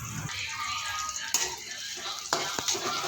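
Curry leaves sizzle and crackle in hot oil in a pan, a steady loud frying hiss with a few sharper pops and stirring clinks near the end.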